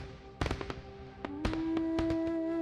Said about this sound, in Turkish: Sen kızdıkça havai fişekler patlayıp duruyor